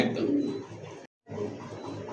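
A pair of pink-beaked Rasgolla pigeons coo steadily and close by, filling two stretches that are split by a short gap of silence.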